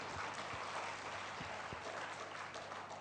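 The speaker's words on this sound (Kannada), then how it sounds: "ನಾನು ಜೋರಾಗಿ ಚಪ್ಪಾಳೆ ಹೊಡೆದ್ಬಿಡಿ" A crowd claps loudly at the close of Bhavasangama 2018, a devotional gathering. The applause is dense and steady, filling the whole stretch without a break.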